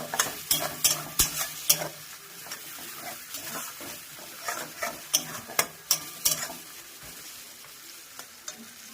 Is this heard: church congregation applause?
no